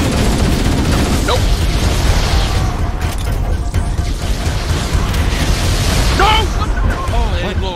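Explosion in the video game Halo: Combat Evolved, a dense, continuous rumble of booms and crackling blasts that stays loud the whole time, with scattered game effects and whooshing sounds mixed in.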